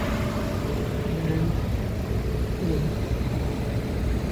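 A family's vehicle engine rumbles steadily and close by, a continuous low drone with no speech over it.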